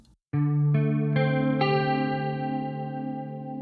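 A sus4 chord on an effected, chorused guitar, its notes entering one after another and ringing together in a sustained, shimmering voicing.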